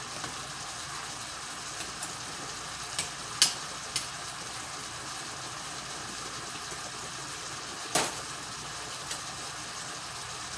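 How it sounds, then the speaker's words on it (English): Elbow noodles boil in a pot with a soft, continuous bubbling hiss, near but quiet, broken by a few faint clicks and knocks. "So let them boil up a little bit."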